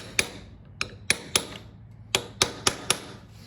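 A hammer strikes a blunt chisel to fold over the locking tabs on a nut in a 1942 Harley-Davidson WLC transmission. There are eight sharp metallic taps, close and spaced irregularly, with short pauses between groups and quiet between blows.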